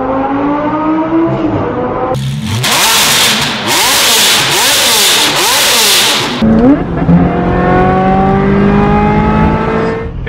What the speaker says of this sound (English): And Jeffrey, if you could let me hear that turbo real quick.